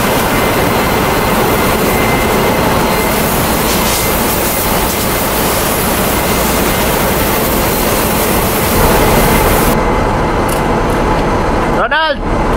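Machinery in a ship's engine room produces a loud, constant, broadband roar that fills the space, with people talking over the din and a brief sweeping whoosh near the end.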